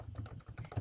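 Someone types on a computer keyboard, a quick run of close, crisp key clicks in an uneven rhythm, with no voices.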